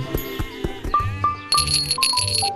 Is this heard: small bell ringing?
yes